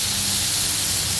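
Butter sizzles loudly in a very hot pan while a cheeseburger cooks, a dense, steady hiss close by with no talk.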